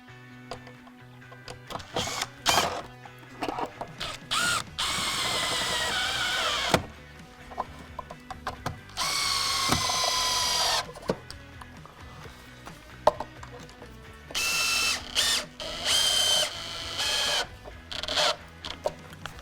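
A powered screwdriver driving screws into a plastic dot-and-dab wall fixing, several whirring bursts of varying length separated by pauses, close and fairly loud.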